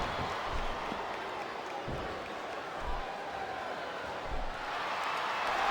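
A wrestling arena crowd in the WWE SmackDown vs Raw 2007 video game roars in a steady, dense wash, with faint thumps and claps rising through it and swelling toward the end.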